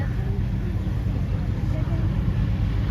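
A hypercar sits at a supercar festival runway, its engine giving a steady, close, low rumble that holds evenly throughout with no clear surge.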